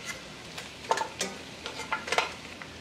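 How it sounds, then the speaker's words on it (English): Guinness-braised oxtail is stirred in a pot with a non-wooden spoon, giving faint, close scraping strokes and soft wet bubbling against the bottom, in a few irregular sweeps. "We want to give that a nice little stir just to start picking up everything on the bottom of the pot there."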